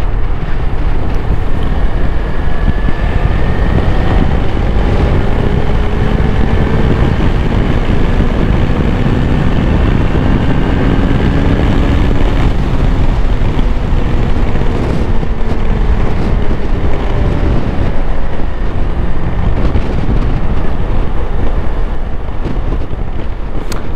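A Suzuki V-Strom 250 motorcycle is ridden and accelerates. Heavy, constant wind rush over the microphone buries the faint rising engine tone throughout.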